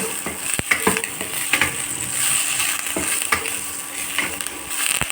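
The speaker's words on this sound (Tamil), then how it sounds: "அந்த வெண்டைக்காயை இதில் போட்டுக்கலாம். இதுலேயுமே ஒரே ஒரு நிமிஷம் வதக்கிட்டு" Okra sautéed in a pan for tamarind curry, with a steady sizzle broken by repeated scrapes and stirring knocks of a spoon against the pan, close and continuous, no voices.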